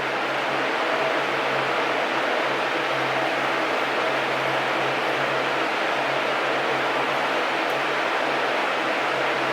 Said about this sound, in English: if you can hear fans and everything in the background